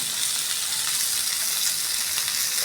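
Meat lightly frying in a pan for a Bengali-style roast makes a steady, close, continuous sizzle and hiss with no talking.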